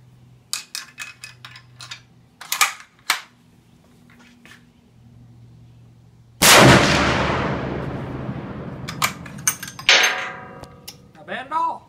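A single very loud, close gunshot from a Serbu .50 BMG bolt-action rifle fired standing, with a long decaying boom, follows light talk and clicks. Voices and brief handling noises continue after it.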